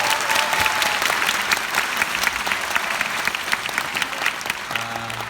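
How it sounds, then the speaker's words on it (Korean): An audience at a Korean talk concert held at Waseda in Japan claps in steady, dense applause that carries evenly throughout before tapering slightly at the end. "동의하시는 분들은 박수를 쳐주시면 감사하겠습니다"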